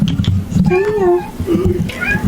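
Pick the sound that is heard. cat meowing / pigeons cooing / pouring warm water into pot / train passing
cat meowing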